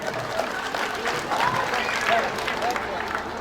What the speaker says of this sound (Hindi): एक जोरदार ताली हो जाए।